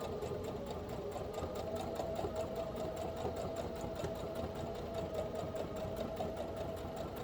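A sewing machine runs at a steady, even hum with a rapid mechanical rattle as it stitches forward and back along a book cover. The sound is close and continuous, with no voices.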